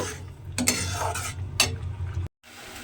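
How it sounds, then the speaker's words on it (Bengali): Bottle gourd halwa being stirred in a pan over low gas, with close scraping strokes of a spoon against the pan and a soft background sizzle, ending in a brief gap. "গ্যাসটা লোতে দিয়ে এইভাবে নেড়ে নেড়ে আমি কিন্তু বেশ কিছুক্ষণ রান্না করে নিয়েছি"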